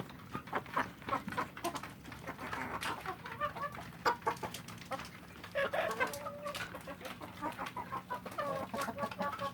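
Indonesian free-range village chickens (ayam kampung) cluck repeatedly in short irregular bursts, several birds close by, moderately loud against a quiet background with no talk.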